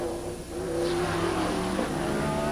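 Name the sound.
race cars accelerating on Trois-Rivières street circuit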